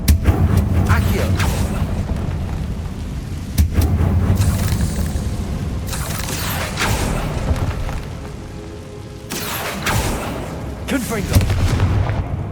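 Confringo blast spells explode repeatedly in Hogwarts Legacy, a series of booming, gunfire-like bursts with crackling tails recurring every few seconds, loud and near, with a voice talking among them.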